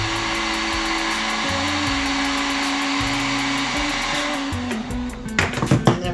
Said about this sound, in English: I take the heat gun and heat it up to shrink the tubing.